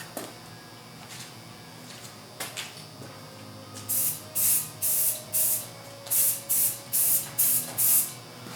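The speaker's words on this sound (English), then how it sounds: "I'm holding the can pretty far away for this initial coat, because I really don't want to get too much paint on there" Spray paint can laying a light initial coat onto a Cessna 310 model aircraft, heard as about ten short hissing bursts in a steady rhythm, close and fairly loud over a quiet room.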